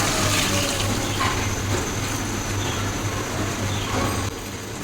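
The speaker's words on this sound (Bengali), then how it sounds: "আমি পানি দিয়ে দিচ্ছি।" Water pours steadily into a pot of country chicken curry with potatoes, a continuous rushing splash throughout that drops slightly in level near the end.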